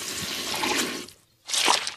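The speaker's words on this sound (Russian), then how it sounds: "Джордж уронил губку в лужицу" A cartoon sponge drops into a small puddle, giving a watery splash that fades out, then a brief pause and a second, sharper splash burst.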